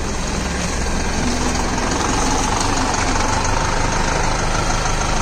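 A Deutz-Fahr Agrolux 80 tractor, an 80 HP machine working at banana mulching, runs with a loud, steady engine drone that holds unbroken throughout, with no voices over it.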